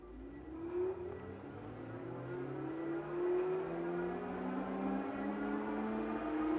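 A Jansno X70 dual-battery electric bike's motor is pushed to full throttle, a smooth whirring hum rising steadily in pitch as it spins up, close and sustained with no talking over it.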